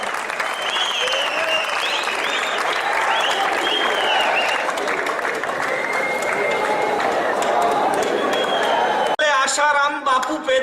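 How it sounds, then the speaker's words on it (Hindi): An audience at a poetry event at VIT gives a loud farewell ovation to poet Suresh Albela, with sustained, dense clapping and crowd noise that cuts off abruptly near the end. "एक बार जोरदार तालियों के साथ विदाई दीजिए भाई सुरेश अलबेला को।"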